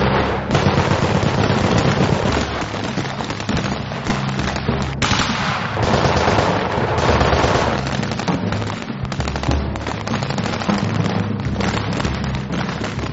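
Pyrotechnic explosions and rapid gunfire on a war film set, loud and dense, with a continuous barrage of shots and blasts that keeps up without a break from start to finish.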